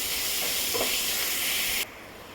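Onions browning in a hot pan give a steady, close sizzle with a couple of faint stirring scrapes, then the sizzle drops sharply quieter near the end, as if the heat were turned down.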